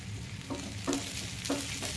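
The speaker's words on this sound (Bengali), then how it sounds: "সাথে কিছু কাঁচা লঙ্কা দিয়ে ভালো করে সব ইনগ্রিডিয়েন্টসগুলো মিলিয়ে একটুখানি ভেজে নেব।" Crushed garlic, ginger and green chilies fry in a pan, a soft continuous sizzle broken by a few sharper stirring scrapes.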